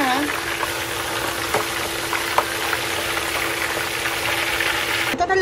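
Food double-fries in a hot kawali pan, a steady loud sizzle and crackle of oil that runs unbroken throughout, with a faint voice underneath.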